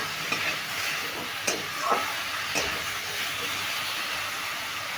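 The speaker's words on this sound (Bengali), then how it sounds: "নুন আর হলুদ দিয়ে বেগুনটার সঙ্গে ভালো করে মিশিয়ে ভেজে নিচ্ছি" Eggplant frying in a pan with salt and turmeric gives a steady broad sizzle, with a few sharp spatula scrapes and taps as it is stirred; no one speaks.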